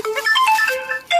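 A mobile phone ringtone chimes in a busy Rohtak market clothing shop, a bright electronic melody of quick tonal notes playing loudly and steadily for about a second.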